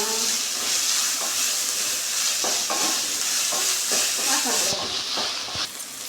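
Ginger garlic paste fries in a pan for a simple chicken curry, giving a steady close hiss and sizzle broken by occasional scraping stir strokes, with no other sound over it.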